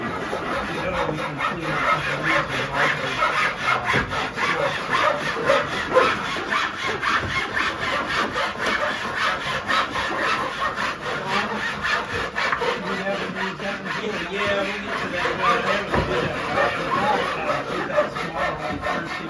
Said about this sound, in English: I love the sound of just woodworking in here.